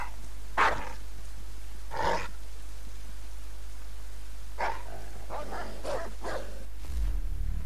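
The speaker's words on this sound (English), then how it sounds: "Put some bait down for that dog." A dog in Assassin's Creed III: The Tyranny of King Washington barks several times, two separate barks followed by a quicker cluster, set against a steady low hum with no talk.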